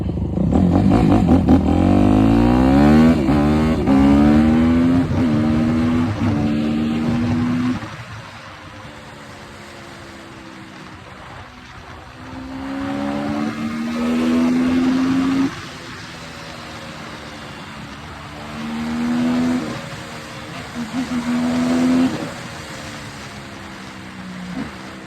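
A dirt bike engine rides down a road in the Kootenays, loud and close, revving hard at first, then settling into repeated rising gear pulls with brief drops in throttle between shifts.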